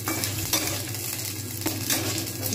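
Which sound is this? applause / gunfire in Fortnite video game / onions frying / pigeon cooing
onions frying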